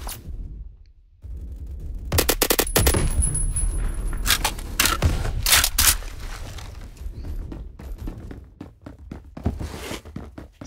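Gunfire in the online shooter Phantom Forces: bursts of loud, sharp shots crowd the middle of the clip amid clanks and footsteps, then thin into scattered single reports toward the end.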